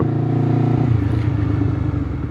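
A Honda CBR 250 RR twin-cylinder motorcycle engine runs steadily and close up while riding, holding a smooth buzzing tone that settles lower partway through, with no talk over it.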